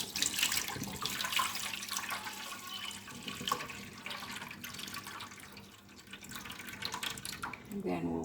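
Water running and splashing as cooking liquid is poured off boiled cocoyam in a home kitchen, a steady broadband pour lasting several seconds with a brief clatter near the end.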